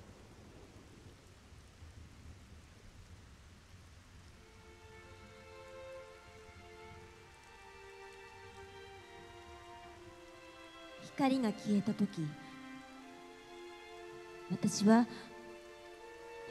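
Soft, steady rain falls at a school during a live Japanese voice-drama stage performance, a faint hiss beneath sustained music, with a voice speaking in two short bursts near the end.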